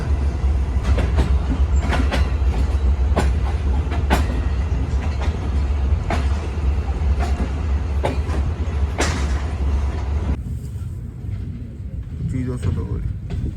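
Steady low rumble and rhythmic clickety-clack of the Karakoram Express heard from inside a carriage on a winter run between Karachi and Lahore, loud and continuous, easing slightly near the end.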